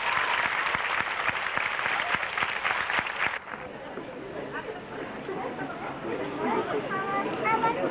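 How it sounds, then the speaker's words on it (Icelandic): Audience applause for six young ballroom and Latin dancers at an awards ceremony, steady rhythmic clapping from a crowd, changing to a looser mix of clapping and murmuring voices midway. "Við skulum gefa þeim gott klapp öllum 6."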